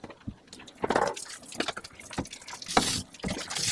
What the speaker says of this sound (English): I like to rinse out the developer bottles because any remaining developer will turn really black.